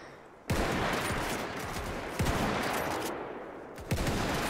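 Rifle shots from the Parabellum mod for the video game Mount & Blade: Warband: three loud, sharp cracks spaced about 1.5 seconds apart over a continuous din of battle gunfire and noise.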